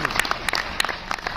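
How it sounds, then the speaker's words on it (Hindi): Audience applause at a live Hindi comedy and poetry show, a burst of clapping with sharp individual claps standing out over a steady crowd wash, moderately loud and close. "हमारी स्पेस एजेंसी इसरो के लिए जोरदार तालियां बजाएंगे"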